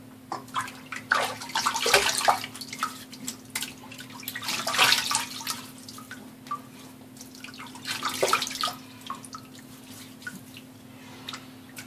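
Tap water runs and splashes as a face is wetted before a shave, coming in three separate bursts of splashing and dripping between quieter pauses, close and fairly soft.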